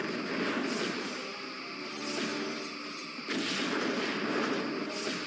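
Galaxy class starship in the Star Trek Bridge Commander game firing a spread of torpedoes at a Romulan warbird: sustained booming, rumbling energy blasts with swelling whooshes, loud and continuous with a fresh surge midway.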